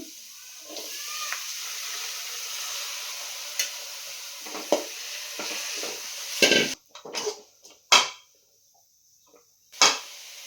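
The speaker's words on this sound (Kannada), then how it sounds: "ಈರುಳ್ಳಿ ಚೆನ್ನಾಗಿ ಫ್ರೈ ಆದ ನಂತರ ಕೂಗ್ಸಿಟ್ಕೊಂಡಿರೋ ಅಂಥ ಕೀರೆಗೆಡೆನ ಹಾಕ್ಕೊಳ್ತಾ ಇದ್ದೀನಿ" Onions and boiled keere tuber frying in a pan, a steady sizzle carrying sharp scraping and clanking as the mix is stirred, with louder clatters toward the end; no voices.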